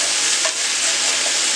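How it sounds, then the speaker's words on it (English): Smoked sausage fries in a skillet seasoned with vegetable juices, giving a steady, close broadband sizzle that holds evenly throughout with no voices. "So we're going to put our meat in here and fry that."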